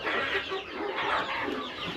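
Many chickens cluck and murmur steadily in poultry pens, a close, continuous farmyard chatter with no voices over it.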